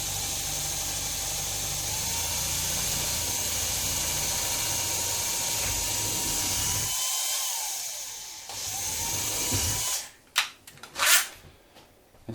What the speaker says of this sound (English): try not to drill through into the sideboard